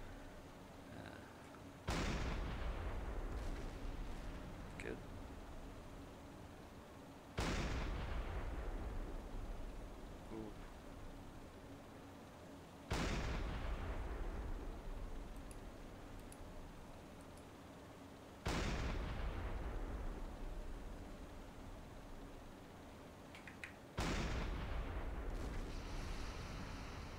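Ship guns in a naval warfare game fire at boats in five heavy booming salvos spaced several seconds apart, each a sharp loud blast that rolls off into a long fading rumble.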